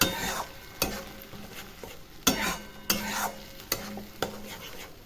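A ladle scrapes repeatedly through palak paneer gravy in a frying kadai, made without onion or garlic. Sharp scrapes come roughly every second over a steady close sizzle, with no talking.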